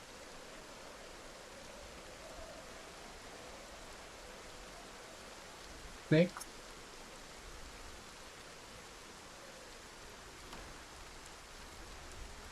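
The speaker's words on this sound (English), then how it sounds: "It's going to be raining for the next 2 days, so let's get used to that." Steady rain in the Project Zomboid survival game's wilderness, a soft continuous hiss at low level throughout, with one brief spoken word in the middle.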